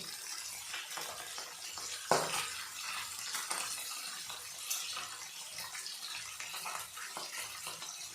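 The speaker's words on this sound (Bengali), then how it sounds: "এই যে দেখো কীভাবে বোম ফুটে" Bual fish curry bubbles and boils hard in a pot, a close, continuous spattering with small pops and one sharper burst, fairly quiet and with no talking.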